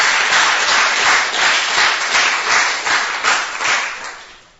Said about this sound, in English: We have to give Prahlad a big round of applause.